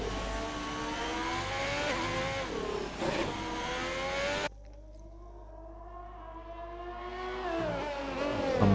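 A Haas F1 car in an Xbox racing game at the Abu Dhabi Grand Prix screams at high revs, drops sharply under braking midway, then climbs back up through the gears, loud and close with no talk.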